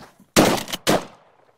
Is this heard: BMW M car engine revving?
no